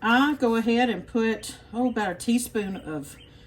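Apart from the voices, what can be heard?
No distinct noise like a dog, phone or traffic.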